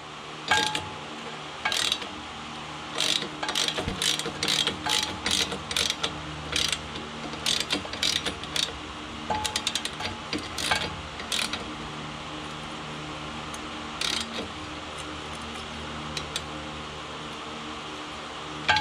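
A wrench ratchets while tightening the air gap on the electromagnetic clutch of a John Deere mower, sharp clicking strokes in quick bursts separated by pauses, close and alone against a low hum.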